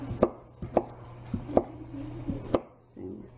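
An onion chopped with a knife on a board during meatloaf dinner prep, five or six crisp, close chops at an uneven pace, with soft handling noise between them.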